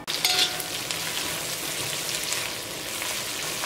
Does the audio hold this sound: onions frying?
yes